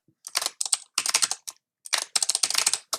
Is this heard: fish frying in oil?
no